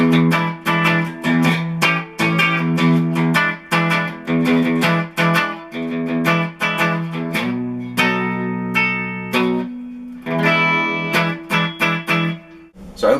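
A Rickenbacker 325 electric guitar plays the rough, driven rhythm part of a song, with choppy strummed chords in a steady beat, alone and close, with no voices.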